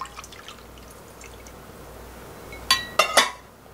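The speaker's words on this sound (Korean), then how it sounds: "묵을 넣을게요." Pieces of acorn jelly drop into cold broth in a bowl, giving three quick wet plops and clinks close by after a quiet, faintly hissing stretch.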